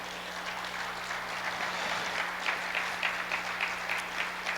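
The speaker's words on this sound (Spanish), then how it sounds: "Dele un buen aplauso al Señor." Congregation clapping in praise during a Spanish-language church service, a steady dense wash of applause with a low hum underneath, sustained through the whole stretch and swelling slightly toward the end.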